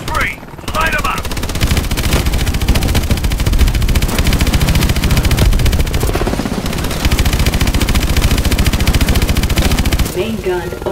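Sustained rapid machine-gun fire from a vehicle's main gun in Call of Duty Advanced Warfare, loud and continuous for about ten seconds with dense bursts, pausing briefly near the start and end.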